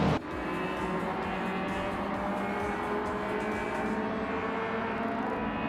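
At the start of a video game race at Bremgarten, Group 1 cars roar away together in a dense, loud engine wash that holds steady throughout, with a sharp burst at the very beginning.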